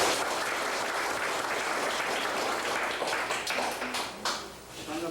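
Villagers applaud at a rural library book donation gathering in Uljin, a fairly quiet, moderately distant patter of clapping that thins and turns more scattered toward the end, with faint voices mixed in.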